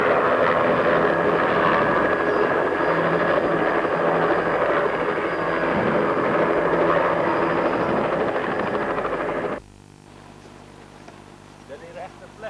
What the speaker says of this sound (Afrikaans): kort na ons arriveer die helikopter